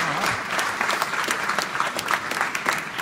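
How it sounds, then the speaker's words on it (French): A crowd at a mayor's New Year greetings event in the 15th arrondissement of Paris applauds a newly arrived police commissioner, dense sustained clapping filling the hall at an even level with brief louder claps. "On peut l'applaudir pour souhaiter la bienvenue."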